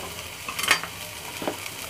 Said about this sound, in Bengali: চিংড়ি মাছটা একটু একটু লাচে করে ভেজে নিব